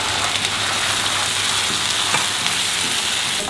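Washed, drained rice fries in hot clarified ghee with translucent onions, cloves and crushed cardamom, giving a loud, steady, close sizzle that holds without a break.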